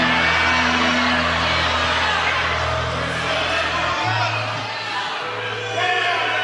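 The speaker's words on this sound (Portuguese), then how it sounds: "dê mais um grito de glória a Jesus" A congregation at a church service lets out a loud, sustained roar of shouting and cheering in praise of Jesus, a dense, continuous crowd noise that dips briefly before rising again.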